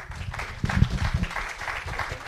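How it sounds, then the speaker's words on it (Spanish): Audience applause for a speaker at a university information systems event, a brief, moderately loud patter of clapping from a room of people. "le damos un fuerte aplauso, por favor"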